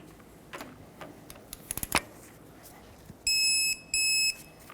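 Torque wrench on a tie rod nut of a 2000-2005 Ford Excursion: a few faint ratchet clicks, then two loud electronic beeps of about half a second each as it reaches the set torque.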